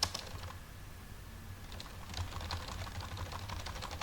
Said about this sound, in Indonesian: kita ketik